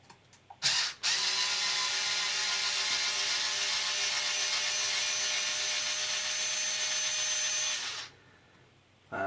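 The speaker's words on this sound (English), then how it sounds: "The next thing I'm going to do is remove all 4 of these screws, so we can just drop the servo away from the axle." A small power driver whirs steadily for about seven seconds as it removes screws from the servo mount on the axle of a Losi LMT RC truck, with brief clicks before and after. The sound is close and even.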